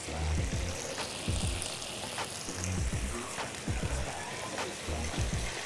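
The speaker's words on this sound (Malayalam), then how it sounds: "അപ്പോൾ ഡക്ക് ഇവിടെ കിടന്ന് റോസ്റ്റ് ആയിക്കൊണ്ടിരിക്കുകയാണ്." Duck roasting in olive oil sizzles and crackles with a steady, dense hiss, with soft low thumps and murmuring underneath throughout.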